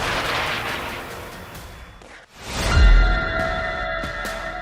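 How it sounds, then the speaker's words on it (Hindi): Heavy blasts from Hezbollah Burkan missile strikes: a rumbling explosion, a brief drop, then a deep, loud boom near the middle, with continuous roar and steady tones layered over it. "जोरदार धमाके साफ देखे जा सकते हैं"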